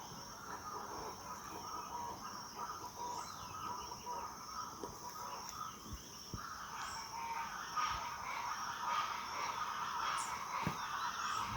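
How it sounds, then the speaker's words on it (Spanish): Chachalacas (guacharacas) calling at dawn in the countryside, a steady chorus of harsh, overlapping bird cries at moderate distance, with a continuous rural background and a few sharp clicks. "Escuchen el arrebol de las aves."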